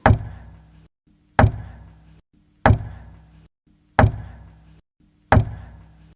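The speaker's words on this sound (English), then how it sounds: "Matt could hear a regular knocking" Regular knocking comes from the other side of a wall, five evenly spaced sharp knocks about a second apart, each with a short dull decay, clear and alone.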